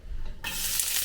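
Onions hit a hot pan and burst into a loud, close sizzle that holds steady as they begin to sauté, with no one talking over it.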